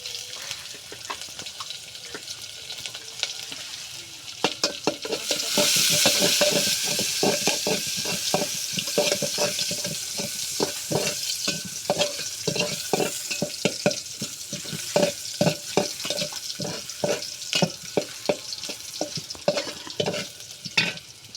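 Sliced onions, bay leaves and garlic frying in hot oil in a home kitchen, a steady close sizzle that swells after a few seconds while a spatula stirs and scrapes in rapid repeated strokes, with no talking.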